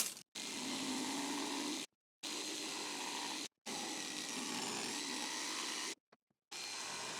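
A power saw cuts out the middle opening of a wooden table saw jig, running in several sustained bursts with short pauses between them, steady and fairly close, no voices.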